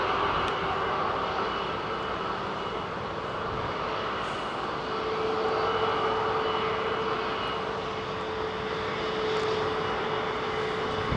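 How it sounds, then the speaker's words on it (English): Airbus A330neo jet airliner at London Heathrow, a steady, loud broadband engine roar that holds evenly throughout with no voices. "This airline, I believe, is the biggest operator of the A330neo."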